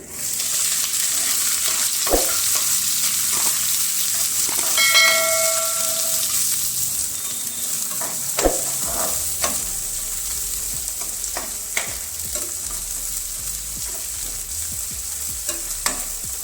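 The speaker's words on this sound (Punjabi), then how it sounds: "ਪਿਆਜ਼ਾਂ ਨੂੰ ਭੁੰਨ ਲਾਈਏ 2-3 ਮਿੰਟ ਵਾਸਤੇ" Garlic and onions fry in a pan, a steady close sizzle with occasional stirring scrapes and clinks running throughout.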